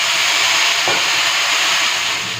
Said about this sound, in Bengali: সামান্য একটুখানি জল দিচ্ছি